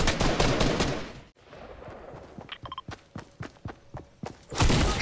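Rapid gunfire in the Fortnite battle royale game, a loud burst of shots at the start, then scattered sharp reports and thuds, and another dense volley at the end.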